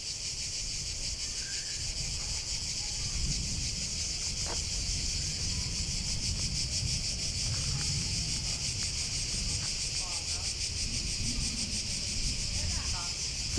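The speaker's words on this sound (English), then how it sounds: "The sound of the cicadas in the trees here are just magic." Cicadas singing in the trees on a quiet Greek island, a loud continuous buzzing drone filling the whole scene, with faint voices talking softly underneath.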